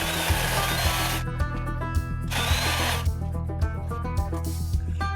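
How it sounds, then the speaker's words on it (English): A Sasquatch saw grinds through a stack of six 2x12 boards at a deck build, a loud, close, continuous motor whine with a steady harmonic drone and rhythmic low thumps as the blade labors through the wood. "it's a little difficult to push this Sasquatch through 6"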